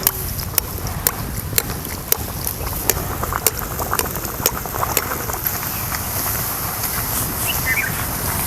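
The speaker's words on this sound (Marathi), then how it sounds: "आता तेलामध्ये सोडते आणि चांगलं आपण हे तळून घेऊया" Cucumber puris frying in hot oil make a loud, bubbling, crackling sizzle close to the pan, punctuated by sharp ticks and pops through the whole stretch.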